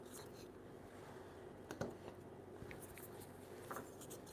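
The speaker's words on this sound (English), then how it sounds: "Let's take this little tiny triangular brace and trace it and make another one." Pencil tracing around a tiny triangular wooden brace in a woodworking shop, a faint, soft scratching against steady room hum.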